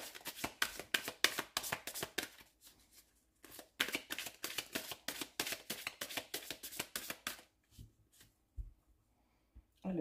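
Oracle cards shuffled by hand before the deck is cut, a fast run of crisp riffling flicks in bursts with brief pauses, close and clear with no talking.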